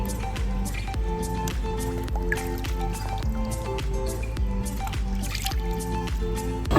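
Pieces of katla fish are washed by hand in water, with continuous close splashing, sloshing and dripping. A steady tonal hum runs underneath.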